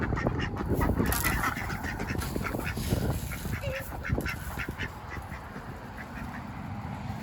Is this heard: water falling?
no